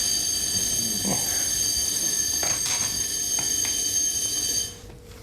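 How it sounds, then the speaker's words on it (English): A building fire alarm buzzes loud and continuous during maintenance testing, a steady tonal drone with a few faint knocks, then cutting off abruptly near the end. "Fire alarm testing maintenance."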